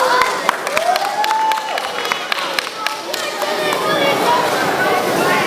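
An audience at a live stage show claps in scattered, uneven bursts of moderate loudness, mixed with crowd noise and a speaking voice.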